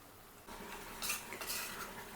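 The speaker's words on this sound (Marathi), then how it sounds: "हा मसाला छान असा परतून घ्यायचा." A spoon scrapes and clinks against a pan as a masala of Kashmiri and Byadgi chillies with salt is sautéed, with a soft sizzle underneath and a few sharper metallic scrapes, heard close and quiet with no talking.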